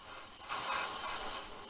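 Aerosol spraying black paint over white onto a 1/24 scale Spitfire Mk.IXc model, a close hiss that starts after a quiet moment, then holds as a steady burst before easing slightly.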